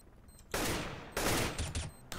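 Player's gun firing in the video game CS:GO, loud close bursts of rapid shots in three or four quick volleys with no talk over them.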